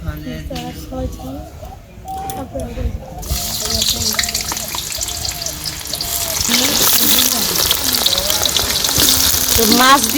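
Fish sizzles and spits in hot oil for a village-style curry, a steady crackling fry that grows louder and denser toward the end, with talk and bird chirps over it.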